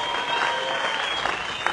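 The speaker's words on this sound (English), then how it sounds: "A round of applause for him." Crowd applause for surfer Ross Williams, the day-one leader at a Hawaiian surf contest, a steady burst of clapping with scattered louder claps and no one speaking.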